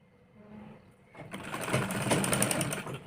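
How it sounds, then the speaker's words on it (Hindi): Sewing machine stitching along the edges of blouse fabric, starting with a quiet whir and then running at a steady, close, buzzing pace for about two seconds. "इस पे किनारे किनारे पे सिलाई लगा लेंगे"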